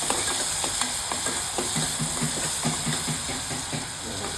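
Onions and cashews fry in a pan while being stirred, a steady close sizzle and hiss running throughout with repeated soft scraping strokes of the stirring.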